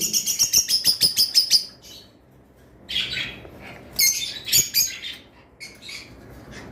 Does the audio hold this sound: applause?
no